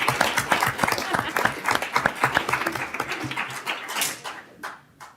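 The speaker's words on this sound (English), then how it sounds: "let's give him a round of" Applause from a school board meeting audience, a short burst of scattered hand claps that thins out toward the end, with some talk mixed in.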